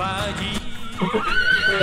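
A horse gives a loud, close, wavering whinny that rises and falls over a couple of seconds.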